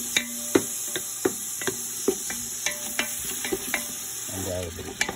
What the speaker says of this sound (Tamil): நன்றாக கொஞ்ச நேரம் கிளறி இந்த தக்காளி எல்லாம் நல்லா வதங்கும்.